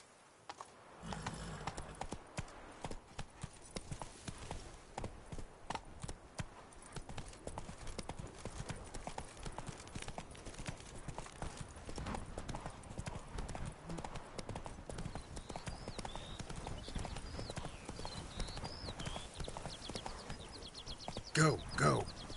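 Rhythmic clip-clop of the horse Roach galloping across ground in The Witcher video game, hooves pounding steadily and near for most of the stretch, with a brief whinny-like flourish near the end.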